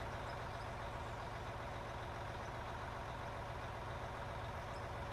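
Steady low rumble of heavy mine haul truck engines in the video game Out of Ore, a dense droning hum with no pauses, moderately loud and close.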